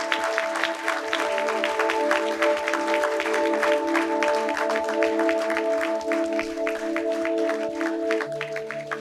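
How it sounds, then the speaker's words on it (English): Steady, dense applause from an audience honouring winners at a business school research conference and awards ceremony, sustained at an even level throughout with a musical tone running beneath it. "Guys, can we have a big round of applause to the winners?"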